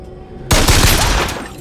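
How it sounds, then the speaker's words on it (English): Rapid gunfire from BioShock Infinite erupts suddenly after a quiet moment, a loud, close burst of shots that rings out and slowly decays. "I'm missing every shot."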